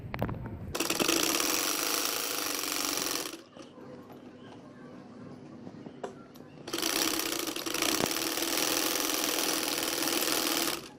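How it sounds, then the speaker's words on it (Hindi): A sewing machine stitching a lengthened sleeve runs in two loud, steady bursts of rapid mechanical whirring, separated by a quieter pause of a few seconds. "चलिए अब सिलाई लगाते हैं।"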